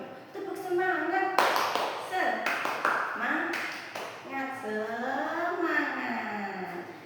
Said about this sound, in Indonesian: kita kasih tepuk semangat dulu. Tepuk semangat.